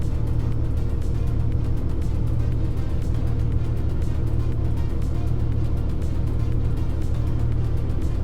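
A car drives off-road with a steady, loud engine drone and a low rumble, constant throughout with no breaks, heard from close by.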